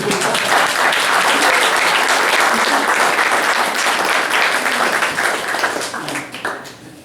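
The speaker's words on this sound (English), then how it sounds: "So let's give him another round of applause." A lecture audience applauds Ethan Russo at a talk on the history of humans and cannabis, a dense, loud wash of clapping that holds steady for several seconds and then tapers off at the end.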